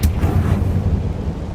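A Confringo blasting spell goes off in the Hogwarts Legacy video game, a sharp burst at the start that settles into a low, rumbling boom and lingering bass tail, loud and close with no talking.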